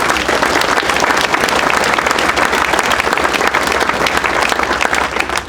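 Loud, sustained audience applause at a university athletics hall of fame ceremony honoring coaches, dense clapping from a large crowd at a steady level with no speech over it.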